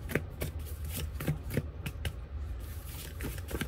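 Tarot cards being shuffled by hand, a close run of quick papery riffles and soft slaps in an uneven rhythm, steady and fairly quiet with no talking.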